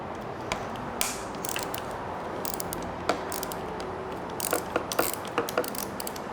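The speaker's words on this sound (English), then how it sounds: "So we'll just take our 8mm and loosen that, or take that off." A ratchet wrench with 8mm and 10mm sockets loosens bolts on a motorcycle lever during a CNC Racing lever install, sharp close clicks in irregular bursts over a steady background hum.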